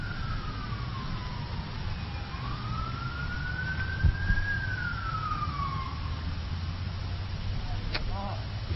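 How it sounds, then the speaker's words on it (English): A distant siren wails, slowly rising and falling in pitch over steady background noise at an outdoor disc golf tournament, with a brief thump partway through. "a siren that was going off as he's throwing his shot"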